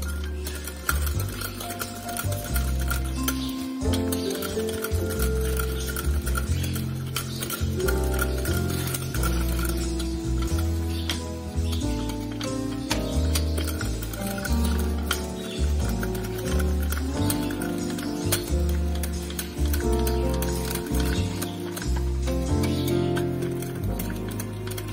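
Cake batter for a chocolate cake is stirred in a bowl as flour is added gradually, soft scraping and tapping strokes running throughout beneath loud, steady background music.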